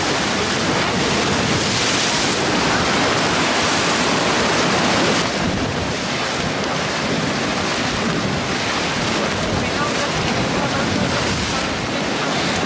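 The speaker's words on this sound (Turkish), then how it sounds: "İnanılmaz bir rüzgar çıktı şu an." Strong wind roars across a rocky seashore, a steady loud rush of gusts buffeting the microphone with surf-like noise throughout, no distinct voices.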